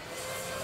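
A model HU-16 Albatross flying boat in US Coast Guard markings flies overhead, its motor giving a steady, continuous drone at moderate distance with no voices over it.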